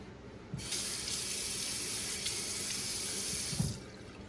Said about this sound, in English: So adding a little bit of water just to make it more uniform and smooth.